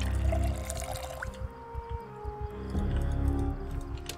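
Water refilling in the survival video game Project Zomboid, a pouring, trickling liquid sound that sputters and then resumes over low rumbling game ambience.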